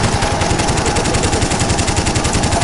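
Rapid automatic gunfire in a shooting video game hammers out in a fast, even burst of closely spaced shots, loud and continuous throughout, with no voices.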